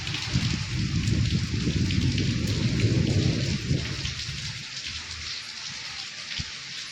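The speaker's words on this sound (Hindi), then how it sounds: "देखिए कितनी तेज तेज बारिश होने लगी है" Heavy rain pours steadily, with a deep rumbling roar that fades after a few seconds, leaving a constant hiss of falling water.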